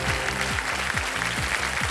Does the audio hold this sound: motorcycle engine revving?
no